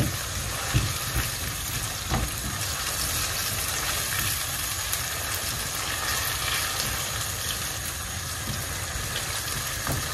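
Blended pepper and ginger fry in a stew pot for corned beef cabbage stew, giving a steady, dense sizzle that stays even throughout, close and moderately loud, with a faint clack near the start and no talk.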